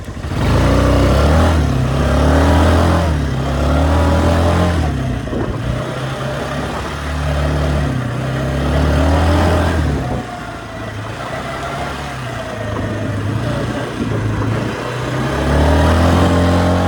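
An ATV engine drives forward close by, its motor rising and falling in a series of revs with a throaty mid-pitched drone that carries steadily throughout.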